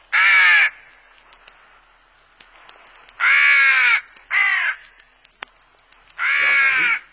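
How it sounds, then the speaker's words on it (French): Carrion crows caw overhead in flight above an open field, four loud harsh calls in separate bursts, two close together, with quiet pauses between and no talking. "Ce sont peut-être des corneilles noires."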